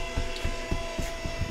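Small electric motor driving the rear camper mechanism of a Piaggio Ape back toward the wall, a steady whirring hum with faint rhythmic knocks repeating about every quarter second, close and continuous.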